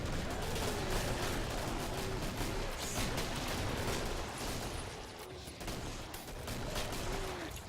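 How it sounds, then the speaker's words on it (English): Hand cannon gunfire in the video game Killing Floor, a dense, continuous barrage of shots and clatter filling the whole stretch, loud and unbroken, with a short dip in intensity midway. "This hand cannon you gave me, Miss, it shoots kind of crooked"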